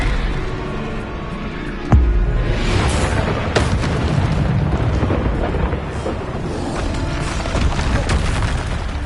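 A Bombarda spell explosion in the video game Hogwarts Legacy, with a loud boom around two seconds in, followed by a rumbling, crackling blast and further muffled impacts over continuous noisy game sound.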